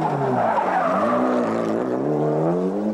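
A Mitsubishi Lancer Evo 3 rally car skids on tarmac at the 1995 Corsica Rally, its engine wailing loud and close with rising, shifting revs and tyre scrub running continuously throughout.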